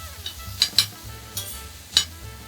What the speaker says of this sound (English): You want to just cook the vegetables till they're a little bit softened, getting translucent.